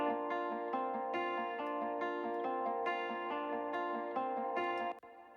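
An acoustic loop runs through Valhalla Delay turned up, a continuous shimmering bed of plucked tones with regular accents. Echoes blur the notes together, then the sound drops sharply near the end, with no talking.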